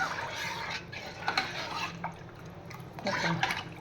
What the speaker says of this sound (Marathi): मग मी आता हे ताक सतत ढवळत राहणार आहे.